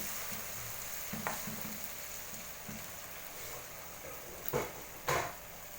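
Cauliflower and potato curry sizzles steadily in a pan as tomato is added, with a few sharper scrapes and clinks of stirring near the end.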